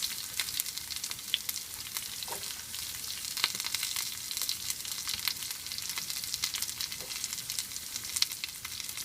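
Carrots and beans with cloves frying in oil for a vegetable kurma, giving a steady, even sizzle with faint crackles throughout and no talking.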